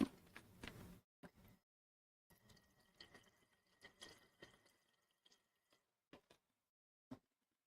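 Water is poured into a container for rinsing paint brushes at a miniature painting desk, a quiet series of drips, splashes and trickles with pauses between bursts.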